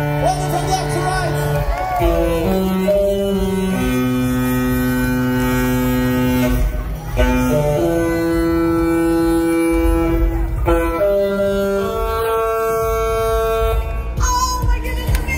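A cruise ship's tune horn sounds from the Discovery Princess at sail-away, long sustained tonal blasts playing the melody loudly and continuously, with crowd noise and cheering mixed beneath.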